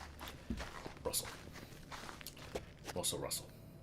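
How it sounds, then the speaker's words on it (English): Footsteps of about ten people walking together across a deserted wasteland in a video game, an uneven shuffle of overlapping steps at moderate distance with voices talking over them. "the sound of 10 odd people walking together through this deserted wasteland."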